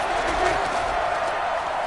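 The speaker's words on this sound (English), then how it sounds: "a moment ago they entered to the delight of this sold-out crowd" A sold-out stadium crowd cheers in a football video game as the Bills face the Dallas Cowboys, a dense, steady roar of noise with no breaks.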